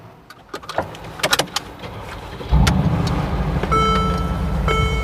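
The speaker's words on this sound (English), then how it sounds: "You heard that V8 rumble." A 2015 Mercedes-AMG G63 with a V8 starts after a few clicks and door thuds, its engine settling into a loud, steady low rumble close by, with a chime-like tone over the idle.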